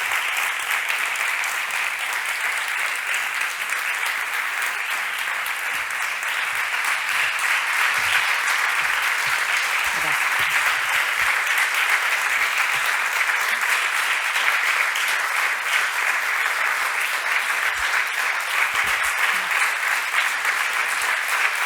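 A conference audience at a talk by Lydia Cacho gives long, sustained applause, with dense, steady clapping from a large crowd that continues without pause for over twenty seconds.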